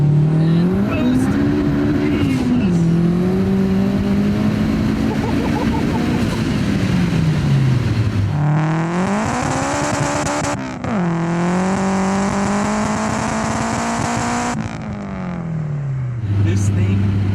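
A 700HP turbocharged K24-swapped Honda Fit accelerates hard in third gear, its engine droning loud and close, climbing and dropping in pitch through repeated surges. Wind roar and tire noise sit under it, with occupants talking over the din.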